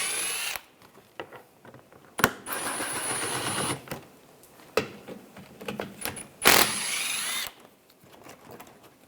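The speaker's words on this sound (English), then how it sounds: "I'm using a 10mm socket. Take these bolts out." A 10mm socket wrench loosens headlight assembly bolts on a 2013-2016 Dodge Dart, with close, intermittent bursts of rapid ratcheting and metallic clicks separated by short quiet gaps.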